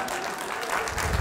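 Applause from a crowd of Tenerife locals cheering a man from Gran Canaria at a live comedy show, a steady patter of many hands that swells louder near the end with low rumbling crowd noise.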